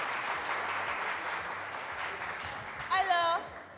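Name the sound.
studio audience applause on a TV game show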